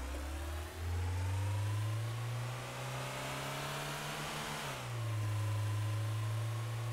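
Car engine driving in Trader Life Simulator, a steady mid-pitched drone that rises with acceleration, dips briefly as if shifting, then climbs again; moderately loud and continuous with no talking.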